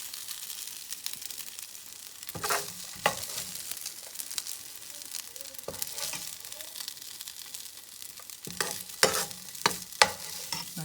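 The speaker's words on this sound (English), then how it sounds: "So you're just going to scoop it out and get it into your bowl" Chicken, broccoli and rice being scooped from a skillet into a bowl, a quiet steady scraping and stirring of food with several sharper spoon-against-pan scrapes, close up, with no talking.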